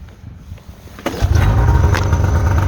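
A snowmobile engine with about 110 kW fires up after a quiet second and settles into a loud, close, steady running drone.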